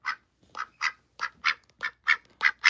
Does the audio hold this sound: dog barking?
no